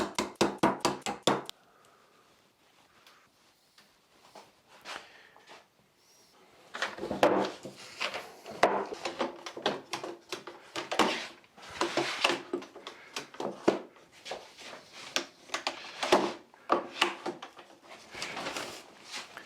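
Pistol grip clamps ratchet tight on a glued walnut bench: a quick run of clicks, a short lull, then many close clattering snaps and knocks at an irregular pace.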